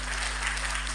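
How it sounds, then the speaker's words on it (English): Applause from an audience at a motivational talk, a steady dense wash of clapping throughout with a low hum underneath. "That's where you clap."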